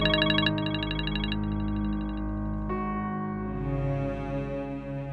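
A mobile phone ringtone plays loudly and steadily, a repeating electronic melody with bright tones that shifts pattern partway through, with no one speaking.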